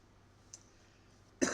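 After a near-silent stretch with a faint tick, one sharp, close cough erupts abruptly at the very end.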